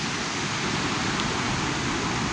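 Constant rushing of flowing stream water, a dense steady wash of noise with no other sounds standing out.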